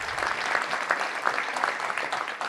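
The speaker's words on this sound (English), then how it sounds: "Let's give him a big round of applause." A round of applause from the audience at a Little Rock Touchdown Club luncheon, a moderately loud, steady clapping with some individual claps popping out, sustained throughout.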